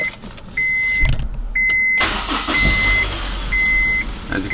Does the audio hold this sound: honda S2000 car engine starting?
yes